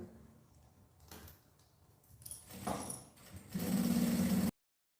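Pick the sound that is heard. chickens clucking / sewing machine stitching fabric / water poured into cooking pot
sewing machine stitching fabric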